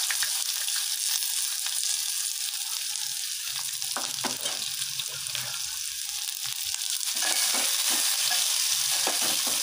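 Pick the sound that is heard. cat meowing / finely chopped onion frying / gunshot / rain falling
finely chopped onion frying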